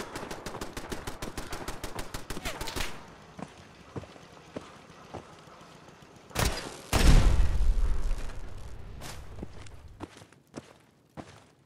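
Automated turrets in Fallout 4 fire a rapid burst of gunshots, then pause for scattered single shots and a couple of loud bangs, ending in more sporadic firing and footsteps.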